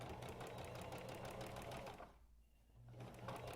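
A sewing machine stitches around the edge of a fabric face mask, a rapid steady whir, close and clear, pausing briefly before starting again.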